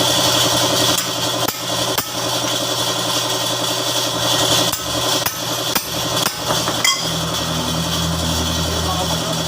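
Sharp hammer blows strike irregularly, several in a row, on a 2010 Mitsubishi Montero, over a steady rumbling engine drone, with a voice talking now and then in the background.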